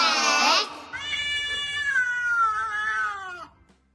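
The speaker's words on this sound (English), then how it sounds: "C for cat." A cat lets out one long, drawn-out meow, loud and close, opening with a sharp, bright cry that settles into a wavering, tonal wail before it fades out.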